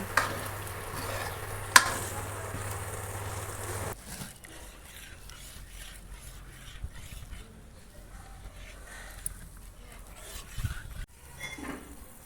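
Fenugreek panjiri ingredients with edible gum roast slowly in ghee in a pan, with a soft steady sizzle and scraping spoon strokes, joined by occasional clinks of utensils.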